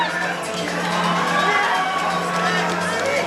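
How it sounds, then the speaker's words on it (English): A packed crowd at a Muay Thai fight roars and cheers wildly, a dense, sustained wall of shouting and whooping that stays loud and steady throughout. "You can hear that crowd in the background."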